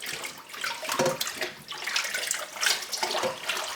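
Running water rinses sheep intestines, splashing and gurgling unevenly in close, moderately loud surges with no voices.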